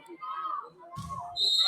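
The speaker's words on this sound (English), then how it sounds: "Whistle blown," A referee's whistle at a high school volleyball regional championship match, a short, sharp blast near the end that rises out of gym crowd noise and a commentator's talk.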